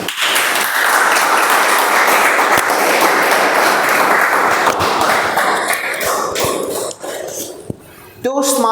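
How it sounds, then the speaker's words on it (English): A Toastmasters meeting audience breaks into sustained, loud applause to welcome a member, with continuous dense clapping that tapers off near the end. "Please, with a huge round of applause, help me welcome Toastmaster Avinash."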